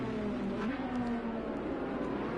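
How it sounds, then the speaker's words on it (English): Race cars thundering through the Monaco tunnel in a Project IndyCar racing game, a steady loud engine drone with a pitch shift as the cars pass, continuous throughout with no talking. "The noise of those cars going through the tunnel, quite emotive"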